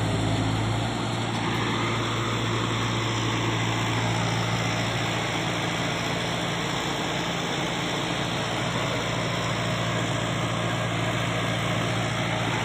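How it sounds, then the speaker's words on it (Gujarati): A steady tractor engine drone with a low, throbbing rumble runs continuously throughout, close and fairly loud, with no voices. "થોડોક અવાજ આવતો હશે ટ્રેક્ટરનો,"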